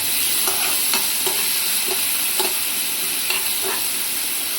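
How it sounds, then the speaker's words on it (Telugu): Karonda (vakkaya) paste frying in hot oil, a steady close sizzle with scattered soft stirring clicks and scrapes, no voices. "తర్వాత వాక్కాయ పేస్ట్ కూడా వేసుకుంటున్నాను. ఇది కొంచెం ఆయిల్లో ఫ్రై చేసుకోవాలి."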